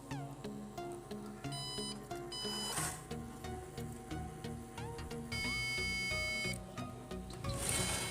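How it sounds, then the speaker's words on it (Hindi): An HP desktop PC that keeps beeping at power-on and will not boot, with repeated electronic tones and a layered tonal pattern running nonstop and fairly loud, with no talking. "यहाँ पर ये कंटिन्यूसली बीप करते ही जा रहा, ऑन नहीं हो रहा"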